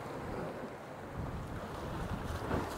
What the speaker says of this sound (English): Had I have known it was going to be as windy as this, I would have brought the big rod.